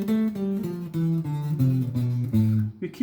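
A minor natural (Aeolian) scale played one note at a time over a single octave, each tone clear and sustained with harmonics, nine or so steps in a steady rhythm, with no talking.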